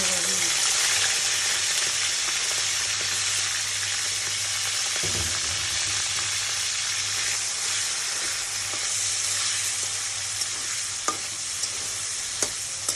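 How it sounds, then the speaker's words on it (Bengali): Tiger prawns frying in hot oil, a loud steady sizzle filling the whole stretch close up, with occasional stirring clicks and scrapes. "এখন আমি বাগদা চিংড়ি তেলে দিয়ে দেবো"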